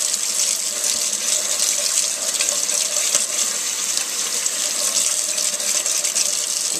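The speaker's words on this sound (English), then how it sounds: "grab about 3 carrots and get ready to wash and cut those up too" Carrots are washed under a running kitchen tap, a steady close hiss of flowing water throughout with no speech.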